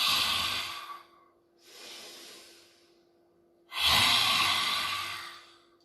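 Deep, forceful breaths during a throat chakra breathing meditation: a long strong exhalation, a softer breath, then another loud drawn-out exhale, close and alone with no talk.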